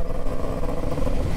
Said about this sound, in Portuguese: o motor dela tá funcionando até que legal